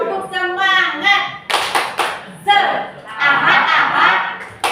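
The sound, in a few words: rhythmic 'tepuk semangat' hand clapping demonstration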